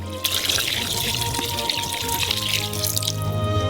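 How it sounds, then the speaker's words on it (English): Water poured into a cauldron of zirvak, a steady splashing stream with dripping and trickling, close and continuous for several seconds without talk. "the water is evaporated, so we add some more"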